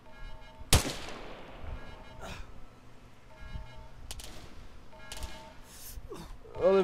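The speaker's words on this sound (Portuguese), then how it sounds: "Eu levei um tiro na cabeça," Gunshot in a first-person shooter video game, a single sharp crack near the start followed by ambient game noise, with faint later impacts and movement sounds.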